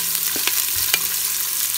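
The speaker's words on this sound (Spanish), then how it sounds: "nos vamos a poner a sofreír la cebolla" Chopped onion sautéing in a pan for pumpkin soup, a steady close hiss of frying with a few soft stirring scrapes, no talking.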